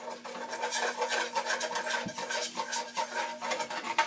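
A spoon scrapes and stirs onions across a pan bottom while deglazing, giving a continuous close rasping and rubbing with small irregular strokes, fairly quiet and without talk.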